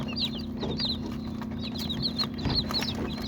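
Three-day-old chicks peep in quick, bright bursts as they drink sugar water, with a steady low hum behind them and no talk.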